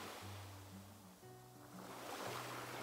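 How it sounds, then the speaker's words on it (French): Ocean surf rolls onto a beach in a soft continuous wash, faint and distant, with a low steady drone and gentle tonal music layered underneath. "Laisse ta respiration se synchroniser avec les vagues."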